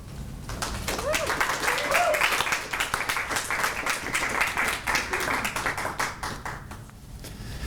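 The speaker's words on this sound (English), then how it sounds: "And while you're busy applauding" Audience applause fills a lecture hall at a Harvard event on grieving and arts-based interventions, steady dense clapping sustained for several seconds, with some voices faintly mixed in.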